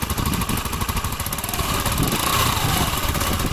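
A 2003 Honda Metropolitan scooter fitted with a swapped-in Ruckus motor runs steadily, a close, buzzy small-engine putter with a fast even pulse that holds at a constant idle-like pace.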